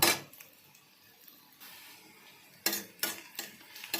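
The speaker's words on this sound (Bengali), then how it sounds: "ডিমের কোরমার জন্য বেরেস্তাটা ভাজছি ভেজে তুলে নেব" Sliced onions frying in hot oil for egg korma, stirred with a utensil: a soft steady sizzle runs underneath while several sharp scraping stirs land near the start and again in quick succession toward the end, with no talking.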